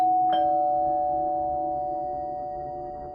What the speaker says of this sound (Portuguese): foi nesse momento que a campainha tocou novamente